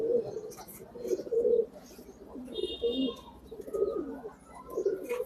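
Urojahaj bloodline pigeons give low, burbling coos close by, several overlapping rolls rising and fading, with a faint higher chirp partway through.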